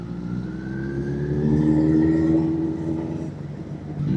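Kawasaki ZX-10R superbike engine revving steadily while being ridden, a loud continuous drone that rises and swells in the middle before easing slightly, heard up close and with no talk.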